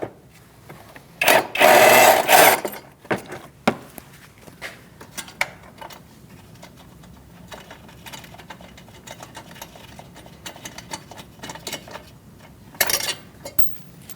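An 8mm ratchet undoes a bumper fastener on a 2008-2014 Mercedes-Benz C300, with a loud rapid ratcheting whir early on, scattered clicks and taps, and a second short ratchet burst near the end.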